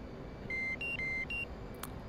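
Low fuel warning in the DCS World F/A-18 flight simulator: two short electronic beeps, clear and evenly spaced over a steady cockpit hum.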